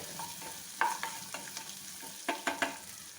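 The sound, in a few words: onions frying in a pan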